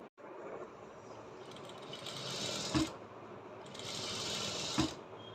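Sewing machine stitching a maggam work blouse, running in two quiet, even bursts of rapid mechanical whirring with a soft clunk as each stops.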